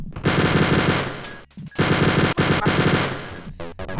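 Rapid machine gun fire from the video game Wolfenstein 3D, two loud sustained bursts separated by a short pause, then a brief clipped burst and some scattered shots near the end.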